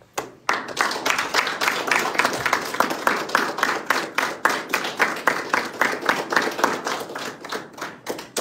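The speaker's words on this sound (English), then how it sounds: "let's give yourselves a round of applause" A crowd of new Navy recruits at an enlistment ceremony claps together in steady, lively applause that continues for several seconds without pause.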